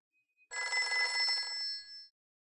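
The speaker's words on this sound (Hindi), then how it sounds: "एक तो ये फोन बहुत बेवक्त बजता है" A telephone bell rings in one continuous burst of about a second and a half, clear and close against silence.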